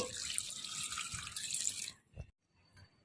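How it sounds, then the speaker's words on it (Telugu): Water poured from a tap into a pot of boiled chickpeas and potatoes, a steady rushing splash for about two seconds, then a few faint drips and clinks. "ఇప్పుడు దాన్ని మునిగేంత వరకు వాటర్ పోయాలి"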